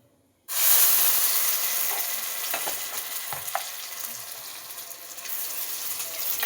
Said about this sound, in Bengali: ঘিয়ের ওপর গাজরটাকে দিচ্ছি